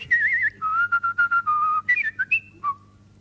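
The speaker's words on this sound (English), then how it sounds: "Give a little whistle" A person whistles a short, wavering tune of held and stepped notes, close and clear with no talk over it.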